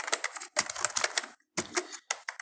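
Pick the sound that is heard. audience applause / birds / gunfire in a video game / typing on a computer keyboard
typing on a computer keyboard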